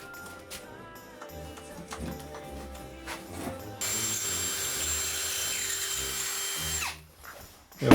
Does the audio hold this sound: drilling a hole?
yes